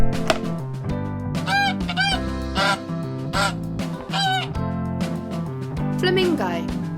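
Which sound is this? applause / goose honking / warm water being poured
goose honking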